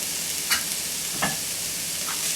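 Finely chopped onion and garlic sauté in oil over a low to medium flame, giving a soft, steady sizzle broken by a few light stirring scrapes.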